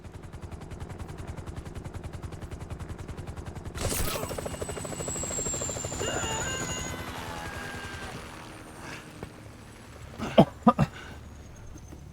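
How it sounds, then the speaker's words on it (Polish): A helicopter drones steadily in the GTA V video game, a continuous rotor hum that gets louder partway through, then sharp bursts of gunfire crack near the end. No voices. "to hit the chopper"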